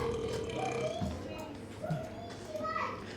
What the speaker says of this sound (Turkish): Şimdi şurada geğirecek terbiyesiz adam